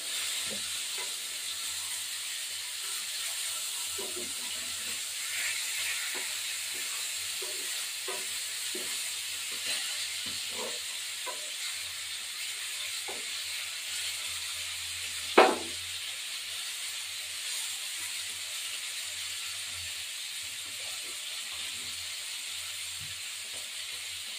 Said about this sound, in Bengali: মাছটা একটু উল্টালাম, এপিঠটা ভাজা হয়ে গেছে